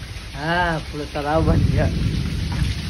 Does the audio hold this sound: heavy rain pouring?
yes